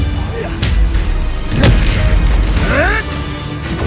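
Fire-spell effects in Hogwarts Legacy gameplay, loud bursts and whooshing blasts with sharp impacts over a rumbling combat backdrop, including a rising zap near the end.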